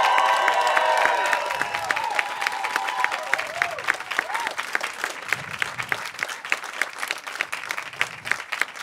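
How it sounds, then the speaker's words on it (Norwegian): Audience applause at a stand-up comedy show, loud sustained clapping from a large crowd for several seconds with some cheering, fading slightly over time. "Og jeg håper dere nøyt den applausen her."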